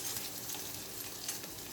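Chopped green chillies, ginger and garlic sizzle steadily in hot oil in a pan while preparing samosa filling, a soft continuous frying hiss with no talk.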